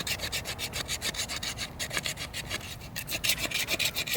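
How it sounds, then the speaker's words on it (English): BeaverCraft knife scraping fatwood, rhythmic rasping strokes at close range, a steady back-and-forth scratch repeating several times a second with no voices. "it is scraping. It does produce fat wood scrapes."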